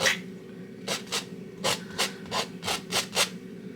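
A palette knife scrapes excess oil paint off a canvas in a landscape painting, making about eight short rasping strokes in an uneven rhythm, close and fairly quiet, with no talk.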